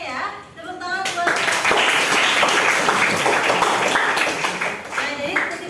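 A classroom bursts into applause for a student group after they present their conclusion in a maths lesson on angle measures; dense, close clapping from many hands runs steadily throughout, with a voice speaking briefly at the start.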